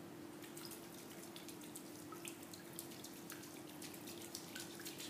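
Hi-hat style water drumming, with fingertips lightly skimming across a water surface in a quick repeating pattern, heard as soft splashy ticks over a steady faint hum.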